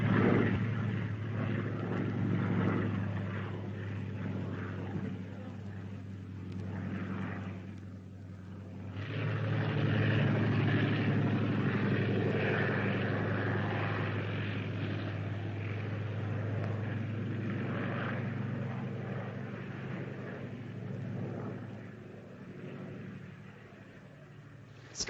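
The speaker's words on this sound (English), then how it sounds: "Scouting plane. Diesel Storch." Fieseler Storch scouting plane flying overhead, its propeller engine a low, continuous drone that swells a little midway and then slowly fades, heard at a distance.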